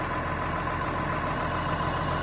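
A farm tractor engine idles close by, a steady, even rumble with a constant mechanical drone and no voices over it.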